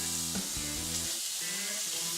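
Bacon pieces fry quietly in a pan for pineapple bacon pork chops, a soft continuous hiss with a low steady hum underneath.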